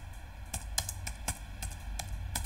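Soft clicking taps from typing on a computer keyboard come in an uneven sequence of light keystrokes over low background hum, close and fairly quiet.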